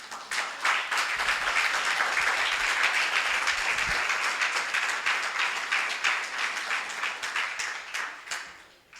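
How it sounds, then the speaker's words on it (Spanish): A church congregation breaks into sustained applause, dense rapid clapping from many hands that swells quickly, holds steady for several seconds, then thins out and fades near the end. "¿Le damos otro aplauso al Señor?"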